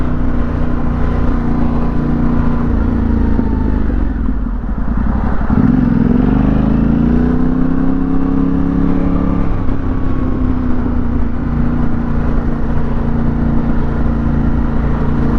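Yamaha Tenere World Raid motorcycle creeping through a rush-hour traffic jam, its engine a loud, steady drone with a brief dip and revving rise midway, wind and road noise around it.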